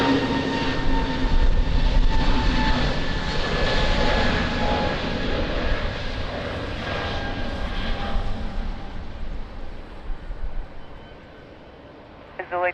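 A large jet airliner, a Boeing 777, on final approach to Lisbon Airport in wind and rain, its engines roaring steadily and close for most of the clip before the sound drops off sharply near the end, with talk faintly underneath.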